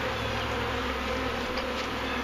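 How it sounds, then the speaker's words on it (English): Dense, steady buzzing of a large honeybee swarm being hived, a close, continuous drone filling the whole stretch with no voices. "That was a whole lot of bees there."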